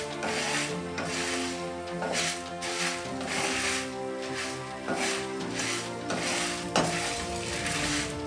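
Dry red chillies roast in a pan, giving a steady sizzle with repeated scraping and stirring clatter against the metal over several seconds.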